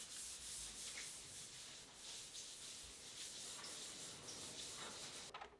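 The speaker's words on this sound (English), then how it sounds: "The men are lightly sanding the paintwork to remove any roughness." Workers lightly sand the paintwork of a 1940 Fordson N tractor by hand, a steady soft scratchy rubbing with repeated back-and-forth strokes, close and fairly quiet, with no voices.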